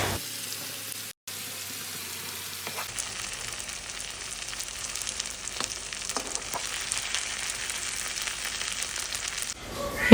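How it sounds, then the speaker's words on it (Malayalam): Chicken pieces frying in a little oil in a pan, a steady close crackling sizzle that continues for most of the stretch with occasional louder spatters, no talking. "അപ്പോൾ ഞാനിവിടെ കുറേശ്ശെ എണ്ണ ഒഴിച്ചിട്ടാണ് വറുത്തെടുക്കുന്നത്"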